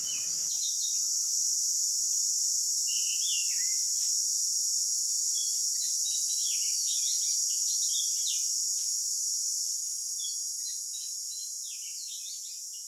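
Birds chirp in scattered short calls in the nature of a forest-ringed plateau near Gaganbawada, heard at a moderate distance over a constant high drone of crickets and insects, with no talking.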